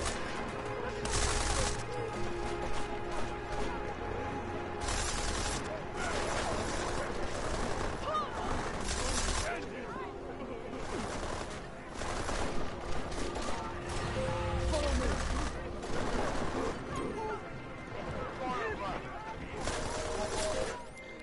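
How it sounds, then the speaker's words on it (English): Gunfire erupts in a street in the video game Deus Ex: Mankind Divided, with repeated loud bursts and shots over a dense game soundscape, while a voice talks intermittently. "I didn't think they'd start shooting him in the street"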